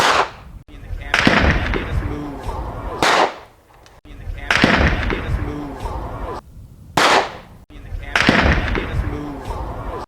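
Three sharp gunshot reports from 9mm and .32 caliber handguns fired outdoors near a courtyard, each a loud crack followed by a long echoing decay, spaced a few seconds apart.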